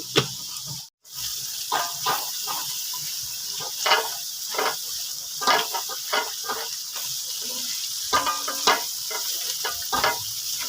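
Spices frying with lemongrass, lime leaves, galangal and tamarind in a pan, a soft steady sizzle with intermittent scraping and stirring clicks, fairly quiet and close.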